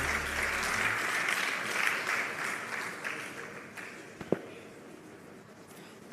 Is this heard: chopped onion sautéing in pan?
no